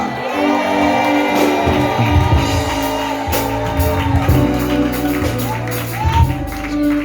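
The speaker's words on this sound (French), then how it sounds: "Est-ce qu'on peut pousser des cris de joie?" A church congregation at a praise service shouting cries of joy, a loud crowd of overlapping shouts and whoops mixed with sustained music, with voices throughout.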